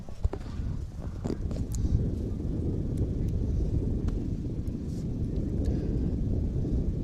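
Gusty wind buffets the top of a broadcast booth at an outdoor girls' varsity soccer game, a steady loud rumbling roar with low thumps throughout, no talk.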